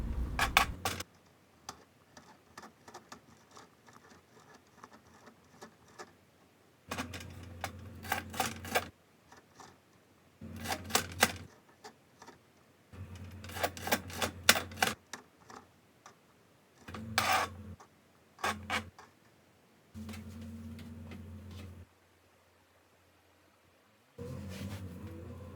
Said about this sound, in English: let's get right into it as we chop these vegetables